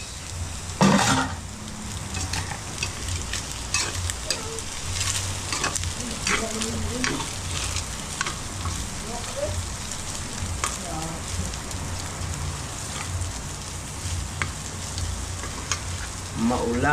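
Vegetables being sautéed for ginisang mungo hiss and sizzle continuously in a pan, with occasional stirring clinks and scrapes and a brief voice early on.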